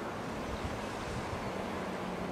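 Ocean surf along a rocky shoreline at D.T. Fleming Beach Park on Maui, a steady broad wash of waves with some wind noise, constant and moderately quiet with no voices.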